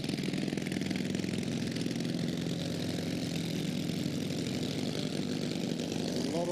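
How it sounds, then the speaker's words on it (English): A supercharged 250cc Honda drag bike engine, the ex-McMahon machine, drones steadily and loudly at a drag racing event, a dense continuous buzzing roar with no pauses. "A lot of noise from this little Honda engine."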